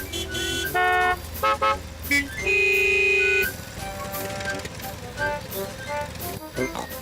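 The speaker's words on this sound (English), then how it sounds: "Grandpa Pig is driving his motor mower over to Peppa's house." Cartoon motor mower driving along, with a chugging engine and repeated bright, musical toots of its horn, loud and close over a background music bed.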